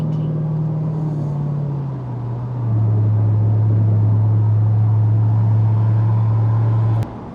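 Jaguar XK8 convertible with a 4-litre V8, driven with the top down in mixed traffic, gives a steady low engine drone that dips slightly in pitch partway through, continuing loud and even until it drops off near the end.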